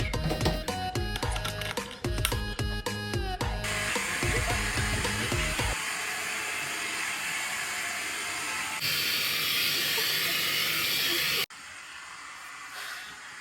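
A Make Me Bold hot air hair brush blows a steady, loud airy hiss throughout, first under a bursty music track, then alone with shifts in airflow intensity.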